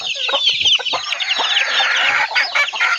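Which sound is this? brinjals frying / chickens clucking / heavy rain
chickens clucking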